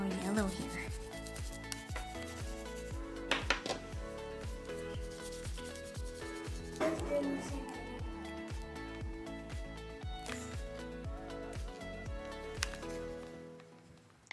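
Oil pastel sticks rubbing and scraping across paper while blending a sky, a steady stream of short strokes repeating close by, with a few louder swipes.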